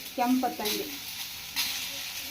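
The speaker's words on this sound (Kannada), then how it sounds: "ಹಸಿಮೆಣಸಿನ್ಕಾಯಿ ಹುರಿಯೋದಾದ ತಕ್ಷಣ ಟೊಮಟೊ ಹಣ್ಣು ಹುರ್ಕೊಂಡ್ಬಿಡ್ಬೇಕು" Green chilies frying in hot oil with tomatoes, village-style chutney preparation, giving a steady close sizzle with brief stirring scrapes and a short voice near the start.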